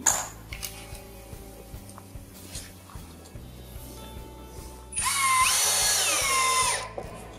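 A power drill drives a screw into the wooden floor of a flat-roof Tendille garden shed: after quieter handling noises, a loud, steady whirring burst of about two seconds that rises in pitch, close up, with no talk.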